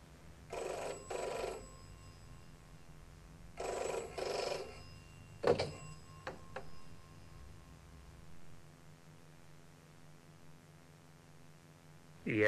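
A telephone bell rings in two long bursts separated by a pause, followed by a few sharp clicks and clacks as the receiver is picked up, then quiet.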